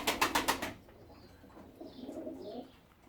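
A few quick close taps at the start, then soft low cooing from a female pigeon, faint and nearby.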